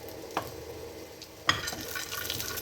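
Chopped dry fruits sauté in hot oil in a pan for a tadka for besan halwa, giving a soft continuous sizzle with a clear stirring clatter at the start and midway.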